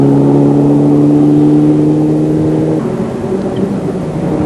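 A rally car running flat out along a gravel forest stage in New Zealand's Karioi Forest, its loud, close engine holding a steady drone before the pitch shifts and roughens partway through.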